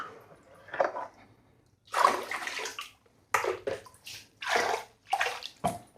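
Water poured from a container into a clear plastic tub, several short bursts of splashing and trickling with brief pauses between, close and moderately loud.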